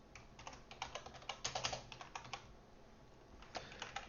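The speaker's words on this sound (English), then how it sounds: "let's go ahead and type all this out" Someone types code on a computer keyboard in quick, soft, irregular clicks, close up and quiet, with short bursts and small pauses.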